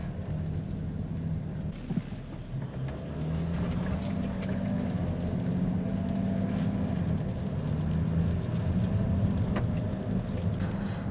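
A car engine drones steadily on a first test drive in nasty weather, with a low rumbling hum, road and wind noise, and a soft thump early on.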